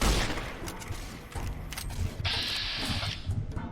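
Shots crack out in Fallout New Vegas, a few scattered gunfire bursts mixed with a hissing, mechanical game noise in the short stretch.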